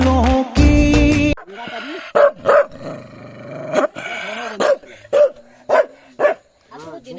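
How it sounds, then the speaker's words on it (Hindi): A dog barks repeatedly in short, loud, sharp bursts with some growling between them, close by in a hillside vegetable field setting, with a brief burst of other sound at the start. "क्या कुत्ता है यार सच्ची में"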